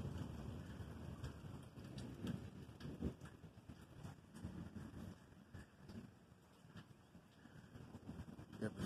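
Severe thunderstorm with steady rain hissing throughout and low rumbling thunder rolling underneath, with a few sharper cracks; a continuous, moderately loud outdoor storm with no talking.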